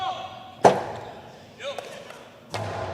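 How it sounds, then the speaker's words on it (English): A jai-alai ball bouncing hard on the court at a professional opening-day match, with two sharp, loud impacts about two seconds apart and a fainter knock between them, under crowd and arena noise. "Big bounce, controlled deep in the corner."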